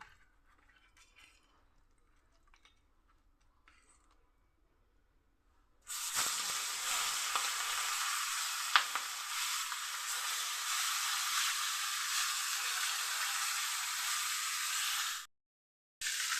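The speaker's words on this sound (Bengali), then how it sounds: "মাছটা আমি ভালো করে ভেজে নেব।" Fish coated in turmeric and salt goes into hot oil in a wok, setting off a sudden loud, steady sizzle that hisses continuously for about nine seconds, with a faint metallic clink early on, after quieter kitchen sounds.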